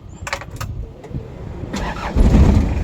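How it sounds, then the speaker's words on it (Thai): Starter motor cranks briefly, then the engine of a Toyota Liteace CM-36 van catches and settles into a loud, steady idle close by. "เครื่องยนต์ติดง่ายนะครับ"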